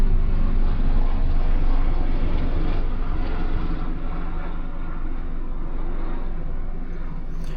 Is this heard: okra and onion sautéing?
no